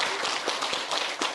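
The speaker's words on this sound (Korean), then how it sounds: "박수 한번 하시죠." Brief burst of audience clapping at a Buddhist temple gathering for a Cambodian children's sponsorship campaign, dense broadband claps carrying throughout without pause.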